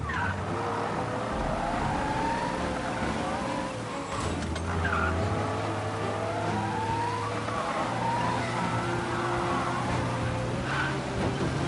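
A car drives in a crime action video game. The engine hums steadily and loudly while the tires squeal and skid repeatedly, with occasional game voices underneath.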